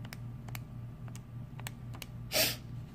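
Numbers are tapped into a calculator in a run of light, evenly spaced key presses close by, over a steady low hum, with one brief louder rustle near the end.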